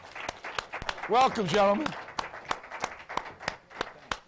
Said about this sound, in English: Ladies and gentlemen, a round of applause for these gentlemen, please.